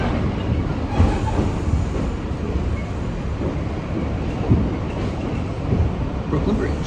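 A New York City subway train pulls into Brooklyn Bridge station with a loud, steady, close rumble and rattling rail clatter that holds throughout.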